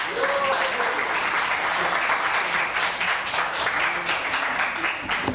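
Audience applause after a child's song at an India Independence Day celebration, sustained loud clapping from a crowd with a voice speaking over it.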